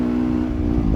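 A Yamaha YZF 250 dirt bike engine, fully prepared, sings at a steady high-revving buzz, loud and close, holding an even tone for a moment with no break.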